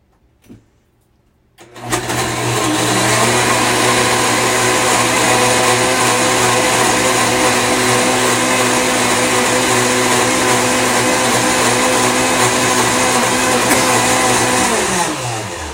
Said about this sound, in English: And then you just put this guy in the blender.